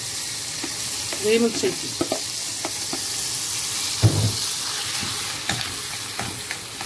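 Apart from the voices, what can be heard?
washed rice added to hot pan, sizzling and stirring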